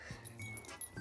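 A young female dog, born this year, whimpers in a few soft, short cries, close by and fairly quiet, with faint low murmuring underneath.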